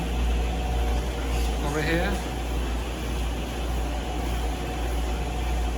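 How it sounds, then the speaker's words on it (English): Constant low mechanical hum and whir of a clothes dryer running in a laundry room, steady and close, with a person briefly speaking over it. "I apologize for the noise, it comes from the dryer"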